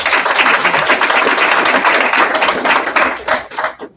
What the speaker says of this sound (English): Can we give them, even though they're not here, a big round of applause?